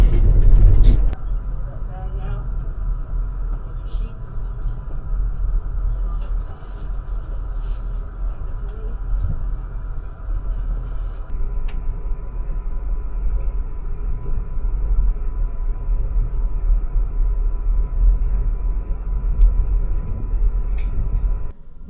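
The Amtrak Auto Train rumbles along the tracks in a long, steady low roar from inside the carriage, with faint clicks and creaks over the continuous drone and a brief louder jolt at the start.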